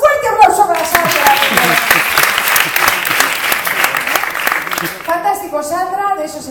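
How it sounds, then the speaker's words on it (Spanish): Audience at a live improv comedy show breaks into loud, sustained applause and cheering for a performer, dense clapping filling the room before tapering as a host's voice returns. "¡Un fuerte aplauso para Sandra!"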